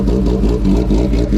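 A low-mileage motorcycle with carbon fiber wheels idling up close, a loud, steady rumbling engine with a rhythmic low pulse throughout.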